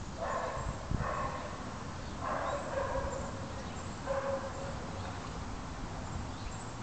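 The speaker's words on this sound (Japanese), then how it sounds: "ワンワン泣いてるね。" A dog gives a series of about four yipping barks at irregular intervals, moderately near, over a low background rumble.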